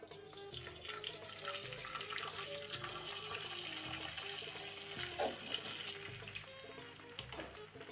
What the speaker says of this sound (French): maintenant on va mettre, moi je mets ça complet, la sauce tomate